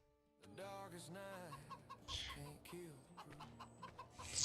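Chickens and two roosters on a farm pasture, with repeated clucking and rising calls close by, plus some background noise and brief vocal sounds.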